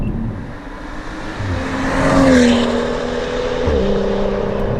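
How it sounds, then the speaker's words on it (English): A modified 2015 BMW M235i engine rises loudly in pitch as it accelerates, then shifts and settles into a steady drone. "This car is very easy to drive quickly."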